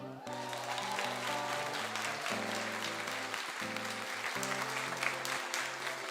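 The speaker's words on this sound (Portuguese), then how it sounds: "Pode aplaudir." A church congregation applauds during a Brazilian worship service, a soft, steady patter of clapping blended with sustained keyboard chords playing underneath, fairly quiet and continuous.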